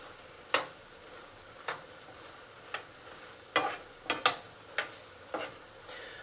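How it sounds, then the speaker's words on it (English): Rice frying in a pan is stirred and broken up with a utensil: a series of sharp, scattered scrapes and clacks, some doubled, over a faint steady sizzle, fairly close, with no talk. "I'm still breaking up the rice a little bit,"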